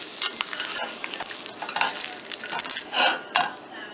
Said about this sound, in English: So, we fried them up.